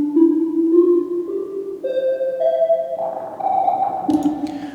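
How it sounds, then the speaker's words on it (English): A synth plays a stepped arpeggio of tones climbing in pitch, each note held briefly before the next, clean and upfront with no voices. "we have this cool little arpeggiation going on right here"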